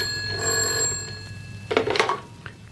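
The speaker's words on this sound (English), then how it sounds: "The phone must have rung a few minutes after I left." A telephone bell rings in a BBC radio drama, a bright metallic trill that sounds once, pauses, then rings again in a second burst, clear and close with no talk over it.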